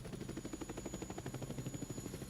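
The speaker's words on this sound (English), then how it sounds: "The noise from the UH-1 dominantly comes because of its two-bladed rotor" A UH-1 Huey helicopter's two-bladed rotor throbbing with a fast, even beat over a low engine rumble, steady and fairly loud throughout.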